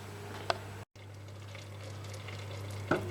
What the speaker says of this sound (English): it's making a lovely pleasant bubbling sound